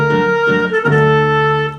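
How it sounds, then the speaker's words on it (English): Saxophone voice on a Roland accordion plays sustained reedy notes with a short pause and a change of note midway, loud and steady with no talking. "Saxophone player."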